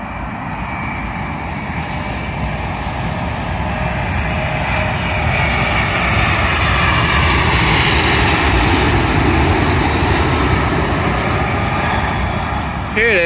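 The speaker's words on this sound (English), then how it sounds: "Arriving in now is another United plane formed of a Boeing 777 from San Francisco to London Heathrow." A United Boeing 777 from San Francisco lands at London Heathrow, its engines producing a loud, steady roar that swells as the jet passes near, with no talk over it.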